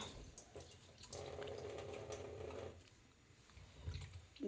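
Raw chicken rinsed under a running kitchen tap while biryani is being cooked, a steady mid-level hiss of flowing water lasting a couple of seconds, with clattering kitchen sounds before and after.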